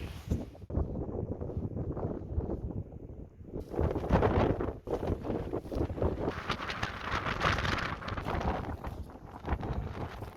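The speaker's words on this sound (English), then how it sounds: "But it's so windy, hence the lack of speaking." Strong wind buffets and roars across the microphone in gusts on a mountain ridge in Canterbury, growing louder partway through, with no talking.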